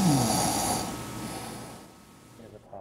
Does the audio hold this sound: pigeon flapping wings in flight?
no